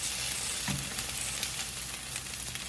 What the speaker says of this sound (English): I want the other side to sear a little